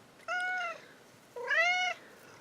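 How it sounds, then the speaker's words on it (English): A pet cat meowing indoors, two clear, drawn-out meows about a second apart, the second slightly louder and longer, close to the microphone in a quiet room. "my cat came to visit."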